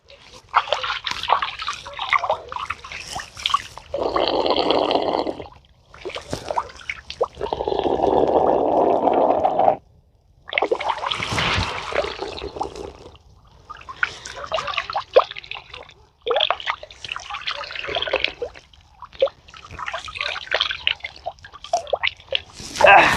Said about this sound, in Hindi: मैं पानी पी लेता हूँ पहले।